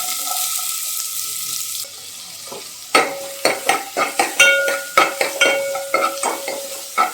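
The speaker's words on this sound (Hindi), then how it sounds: "ये प्याज अच्छी तरीके से फ्राय हुआ है" Finely chopped onion frying in ordinary cooking oil, with a quiet sizzle at first, then a run of loud, rhythmic scraping and clattering stirring strokes close by.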